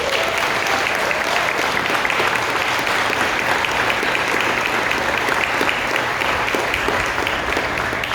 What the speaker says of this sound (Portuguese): Uma salva de palmas para a Jéssica.